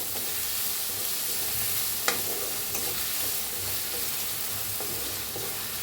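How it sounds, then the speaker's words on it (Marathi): Finely chopped onion fries in a pan with curry leaves, ginger and crushed green chilli, giving a continuous close sizzle with a few light scrapes of stirring and no talk. "आपण असं बारीक कांदा करून घेतलाय एक, हलवून छान असं भाजून घेऊया।"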